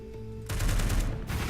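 Missile barrage attack in the strategy video game Into the Breach: after a soft tonal lead-in, a sudden dense volley of rapid explosive bursts rattles on for about a second at steady loudness.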